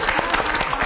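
An indoor audience claps in a short, dense burst of applause, fairly loud and close.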